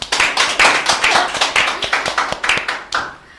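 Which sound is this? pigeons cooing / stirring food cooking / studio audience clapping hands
studio audience clapping hands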